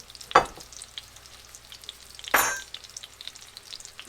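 Salisbury steak patties frying in a pan for mushroom gravy, heard as two short bursts of loud sizzle against a faint, steady background crackle.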